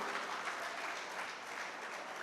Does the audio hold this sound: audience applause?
yes